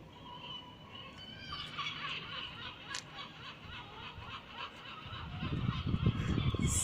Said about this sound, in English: Seagulls making a lot of noise.